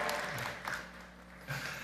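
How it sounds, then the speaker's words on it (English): Audience applause for Prime Minister Justin Trudeau at a Federation of Canadian Municipalities address in Canada, June 2022: a faint, diffuse crowd clapping in a large hall that swells briefly twice. "Yeah, you can applaud that."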